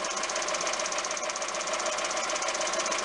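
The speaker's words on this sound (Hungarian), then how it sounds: "Sajnos a himbáknak van hangjuk" A Volkswagen Golf 1.4 16V engine with over 300,000 km and worn rocker arms runs at warm idle with a steady, rapid ticking clatter, close and continuous, with no talking.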